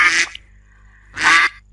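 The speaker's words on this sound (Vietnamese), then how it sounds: "Trên màn hình, cô có 4 chú vịt đang bơi lội," Two loud, close duck quacks, each short and nasal, separated by about a second of near silence.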